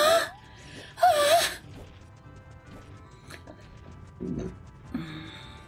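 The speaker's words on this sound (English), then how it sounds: "My Z-tarding sound is this Zelda gasp." A short gasp effect from The Legend of Zelda: Ocarina of Time plays near the start, with a second gasp-like burst just after, followed by quieter game sounds and faint low thumps.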